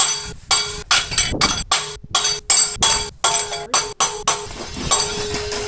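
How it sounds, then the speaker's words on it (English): Steel being hammered in a farm shop during harvest equipment repair, a long run of sharp ringing metallic strikes in an uneven rhythm, close and loud with no talk. "Much hammering later."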